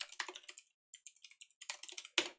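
Rapid bursts of keystrokes on a computer keyboard clatter close by, separated by short pauses and ending on one sharp, heavier key press.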